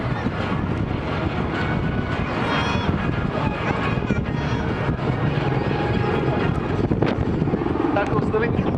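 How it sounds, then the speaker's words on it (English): A military helicopter flies a display at a seafront air show in Weston-super-Mare. The rotor chop stays steady and prominent throughout, mixed with gusty wind buffeting on the microphone. "this is still an impressive, still a very capable helicopter"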